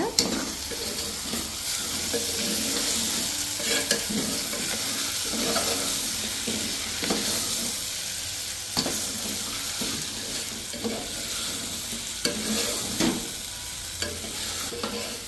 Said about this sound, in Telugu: టమాటా ముక్కలు వేగిన తర్వాత